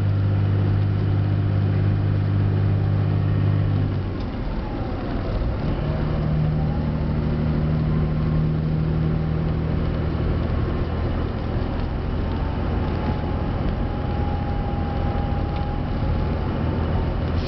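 A truck fitted with a 5-inch FTE resonator and towing a backhoe cruises in fifth gear at about 50 mph and 2,000 RPM, making a loud, steady low engine drone with road noise and a slight pitch shift midway.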